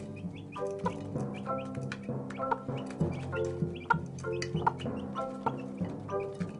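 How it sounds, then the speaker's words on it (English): A mother hen calls her chicks with repeated clucks while pecking and rubbing her beak on the floor beside a feed bowl, the calls close and steady, coming in short rhythmic bursts. "She carries on calling and pecking, and at last the chicks obey their mother"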